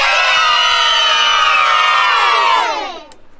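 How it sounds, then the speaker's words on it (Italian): A crowd of children shouts and cheers together in one loud, sustained burst for about two and a half seconds, then quickly fades out; the setting is a pirate-themed surprise party. "Sì, però vorrei sentirli urlare."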